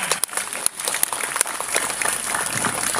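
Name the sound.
applause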